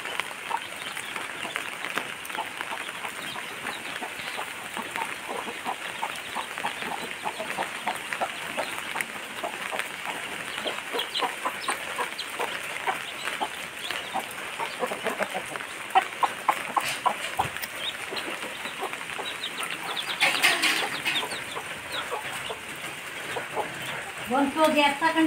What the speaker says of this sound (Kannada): ಕಚ್ತದೆ ಫ್ರೆಂಡ್ಸ್ ಈ ಕೋಳಿ